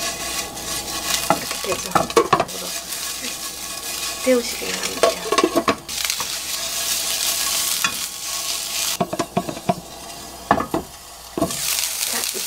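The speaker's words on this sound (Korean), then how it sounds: "이렇게 굴리면요, 좀 빨리 데워지거든요. 기름 안 넣어도 이런 식으로 굴리면은" Hot dogs rolled around a pan without oil to heat them, giving a soft continuous sizzle with scraping and stirring rattles of utensil on pan, while someone talks over it.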